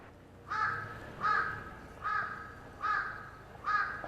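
Five harsh caws from a large-billed crow in a Hallasan forest, evenly spaced and repeated at a steady rhythm, moderately near against a quiet background.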